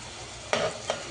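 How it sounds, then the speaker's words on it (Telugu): Okra curry with tomatoes, turmeric and ginger cooks in a pan, a soft steady sizzle with two brief louder bursts of stirring or spattering, close and alone. "ఈ కర్రీ ఉడుకుతున్నప్పుడు వచ్చే సౌండ్"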